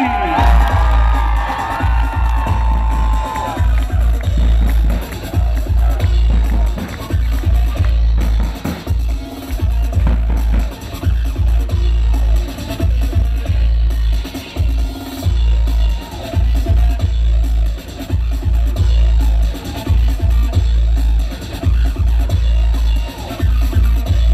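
A large crowd at the PGE Skra Bełchatów volleyball team presentation cheers, whoops and claps continuously in a loud hall, with occasional shouts rising above the sustained roar.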